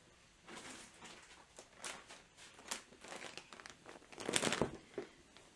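A plastic project bag holding balls of wool is handled close by, giving irregular crinkling and rustling bursts that grow louder toward the end, with no talk.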